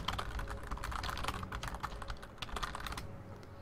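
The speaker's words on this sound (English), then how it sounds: "You could hear me typing it" Rapid typing on a computer keyboard, a close, dense run of clicky keystrokes in quick bursts, with a brief pause before a final flurry.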